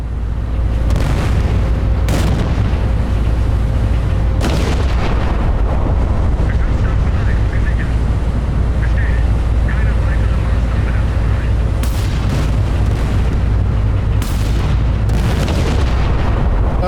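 Heavy naval gunfire booms out in the Battleship Command warship game, several loud blasts over a constant low engine rumble, with a voice speaking now and then.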